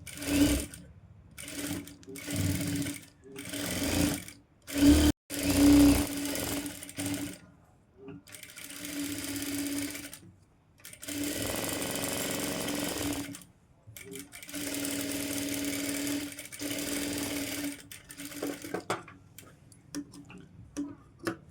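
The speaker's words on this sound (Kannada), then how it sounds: "ಈ ರೀತಿ ಅಪೋಸಿಟಲ್ಲಿ ಇಟ್ಕೊಂಡು ಸ್ಟಿಚ್ ಮಾಡಿ" Sewing machine stitching the neckline of a golden blouse front, a steady mechanical whirr that runs in repeated bursts with short pauses between, close and fairly loud.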